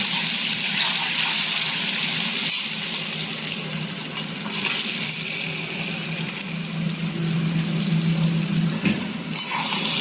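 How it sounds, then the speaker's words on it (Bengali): Potato pieces seasoned with turmeric and salt sizzle in a pan, a loud, steady, close hiss of hot oil that carries on without a break and with nobody speaking. "আলুটা ভালো করে ভেজে নেব"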